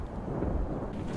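Stormy weather in the zombie survival game Project Zomboid rolls in as a low, rumbling thunder over steady rain and wind, moderately loud and continuous, with no voices.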